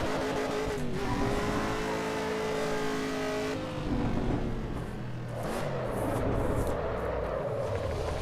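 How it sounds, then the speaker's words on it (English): Race car drifting slowly around a narrow pit lane on cold tyres in the video game Assetto Corsa EVO, engine revving and shifting pitch with a continuous roar and a brief dip midway. "can I drift it slightly around this narrow little pit lane?"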